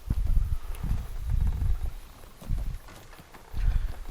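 A horse's hooves clip-clopping across a bridge in a video game, several muffled bursts of low, soft footfalls separated by short pauses, moderately close with no speech.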